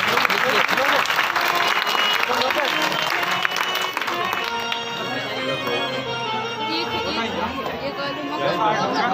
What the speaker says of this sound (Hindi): सभी लोग ताली से स्वागत करें। ताली बजाएं।